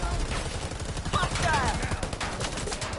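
Sustained automatic gunfire in the video game Predator: Hunting Grounds, a loud, continuous rattle of rapid shots with faint voices and chatter mixed in around them.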